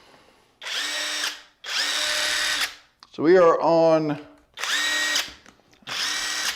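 Alloyman 1/2 inch cordless impact wrench with a 4.0Ah lithium-ion battery runs in four loud, whining bursts of about a second each, with a brief spoken remark in the gap between the second and third.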